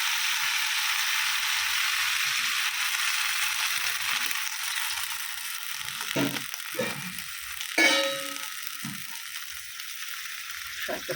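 Garlic-tempered greens sizzling in a pan, a steady faint hiss that is broken by sharper crackling bursts and spits when a little water goes in partway through.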